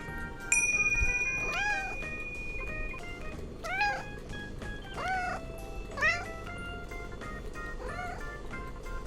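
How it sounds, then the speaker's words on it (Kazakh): A cat meows about five times in a slow, evenly spaced series of rising-and-falling cries, close and clear over a quiet, slightly noisy background. "Мысық"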